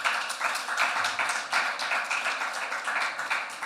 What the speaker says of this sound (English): ask for a warm applause for Joanita